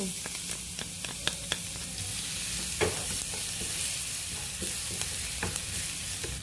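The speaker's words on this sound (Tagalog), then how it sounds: "Ayun, mainit na mantika. Igisa ko na ang bawang." Garlic sautéing in hot cooking oil in a frying pan, a steady close sizzle with scattered crackles and a few sharp stirring clicks, no talking.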